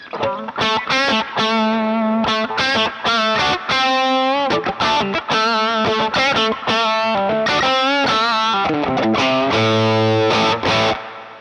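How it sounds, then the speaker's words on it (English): Distorted electric guitar through a tube amplifier on the bridge pickup with the volume rolled back, playing a run of chords and single notes with sustained, driven tone and a heavier low chug near the end. "Try bridge pickup with the volume rolled off."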